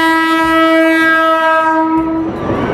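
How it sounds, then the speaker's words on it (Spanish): Loud, sustained blare of a train horn holding a rich chord close by in the Colombian town of Caracolí, cutting off as the rumble and clatter of the passing train surge up. "El sonido del tren que invadía los valles y montañas de esta tierra de paz y gente amable"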